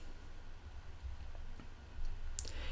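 Computer mouse clicks during software setup: a few sparse, light clicks spread across a few seconds, close and quiet over faint room hiss.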